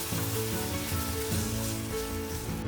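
Sliced onions fry in a pan with a dense, steady sizzle, loud and close, with soft stirring scrapes underneath.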